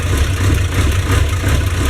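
A boat engine starts and runs with a low, even rumble, continuous and fairly loud throughout, no voices.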